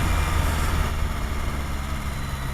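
A Honda CBR sport motorcycle idles nearby. Its steady, moderate low rumble runs unbroken and alone, with no talk.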